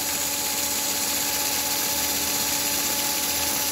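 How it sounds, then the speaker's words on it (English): American Flyer toy steam locomotive on a ball bearing axle chassis running flat out at 17 volts, giving a steady, loud, dense mechanical whir and hum without a break. "when you have an American Flyer steam engine flat out, you kind of know it from across the room"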